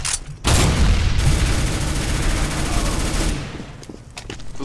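Sustained gunfire from a first-person shooter video game, a dense rapid burst of loud shots that roars for about three seconds before cutting off, followed by scattered quieter bangs.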